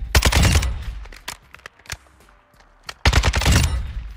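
Kastov 762 rifle gunfire in Call of Duty: two loud, close sustained automatic bursts at the start and end, with scattered single shots and a quieter gap between.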